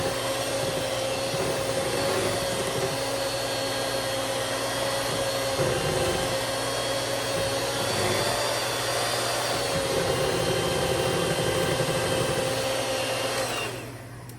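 An electric hand mixer whirs steadily and loudly through cupcake batter, a continuous motor drone held close with small shifts in pitch as the beaters move, then cutting off at the very end.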